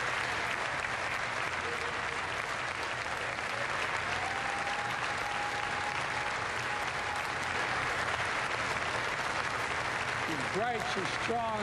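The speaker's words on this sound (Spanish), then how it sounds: "ahí se ha extendido el aplauso" Sustained applause from a large crowd honoring the people of Ukraine at a public gathering, a dense steady clapping that runs unbroken throughout, with a brief whistle-like tone and a swooping sound near the end.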